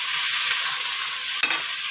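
Pechay stems and tofu sautéing in a pan, a steady bright sizzle and hiss close up, briefly broken by a stirring scrape near the end, with no talking.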